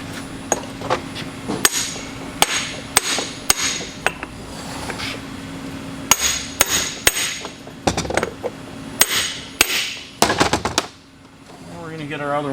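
Metal hammer taps on a seal and parts during a Cummins transfer case rebuild: sharp, close strikes in irregular bursts and clusters, with a steady background hum throughout.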